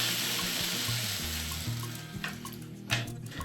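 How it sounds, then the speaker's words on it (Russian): Almond milk poured into a pot on the stove, a steady liquid stream with light bubbling and sizzle as it begins to boil, close and continuous with no voices. "Поэтому добавляю это миндальное молоко, и все начинает кипеть."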